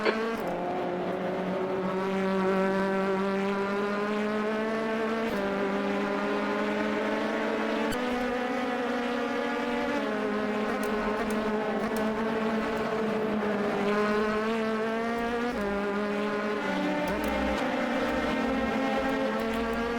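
Race car engine at Sebring, accelerating steadily out of pit lane with the pit limiter disengaged, a loud continuous roar with rising and falling harmonics as the gears change, heard alone throughout.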